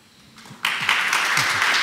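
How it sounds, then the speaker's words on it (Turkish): A panel audience bursts into applause for the guests, starting quietly and then swelling into a loud, sustained wash of clapping that carries on to the end. "Ben konuklarımız için tekrar bir alkış diliyorum."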